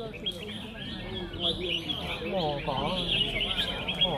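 Red-whiskered bulbuls singing at a crowded bird song contest, with several bright chirps and warbling phrases overlapping against a busy background murmur of people.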